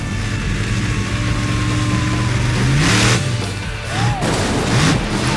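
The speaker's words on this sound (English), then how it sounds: "The monster truck is so heavy that when it lands on the cars, they are squashed as flat as a pancake." The monster truck Swamp Thing revs its engine and lands on a row of cars at a show: a loud continuous engine drone broken by heavy crunching thuds and booming impacts.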